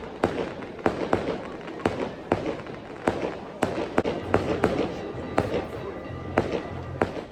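Fireworks and firecrackers going off across the mountains above the Amalfi Coast, a rapid irregular series of sharp distant pops and cracks under steady ambient noise with faint background voices.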